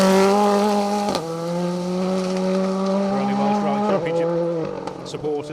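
A Ford Fiesta R5 rally car engine drones at high revs, its pitch shifting as gears change, with a commentator talking over the noise.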